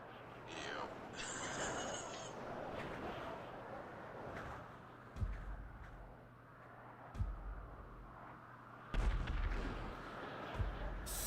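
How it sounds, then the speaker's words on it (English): Explosions in Grand Theft Auto V land as several low, punchy booms spread over a few seconds, with game noise in between and people talking over it. "Spawning into hearing explosions."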